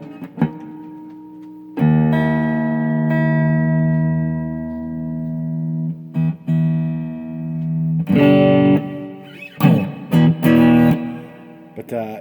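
Electric guitar tuned to E through a Fender Machete 50-watt amp head: a single string rings and sustains for several seconds, then ends in short, louder strums and plucked notes with a slightly driven edge.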